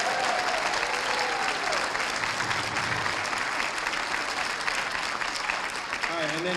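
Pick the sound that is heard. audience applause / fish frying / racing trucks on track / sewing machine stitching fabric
audience applause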